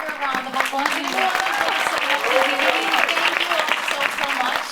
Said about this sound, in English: They deserve a bigger round of applause.